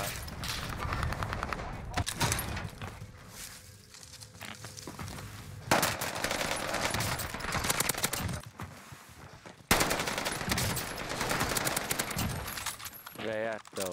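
Gunfire in the Call of Duty: Vanguard Warzone video game, Rebirth map with an MP40 submachine gun: dense, continuous bursts of automatic shots and sharp game effects running the whole way, loud and busy, with players talking over it.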